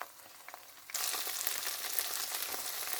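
Shellfish sizzle in hot oil as they fry until crispy, starting as a soft crackle and swelling into a loud, steady hiss and spatter.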